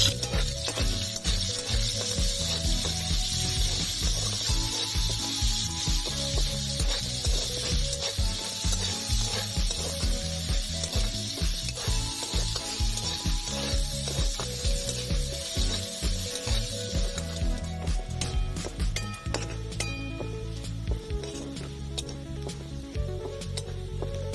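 Chopped onion, added after a little chopped garlic, fries in a pan, a continuous close sizzle with soft scraping and stirring sounds, steady and fairly quiet.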